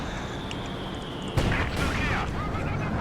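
Tank gunfire in a World War II video game as a Centaur attacks a Panzer: one sharp, loud cannon blast cracks over a steady battle rumble, followed by a whooshing trail, with a voice talking throughout.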